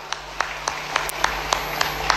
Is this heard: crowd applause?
yes